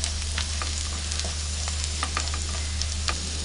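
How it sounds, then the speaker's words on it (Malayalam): Masala spice powders including garam masala sizzle and fry in a pan for a restaurant-style veg curry, a dense continuous close crackle with occasional scrapes of stirring, no talk. "നന്നായിട്ടൊന്ന് വഴറ്റിയെടുക്കാം."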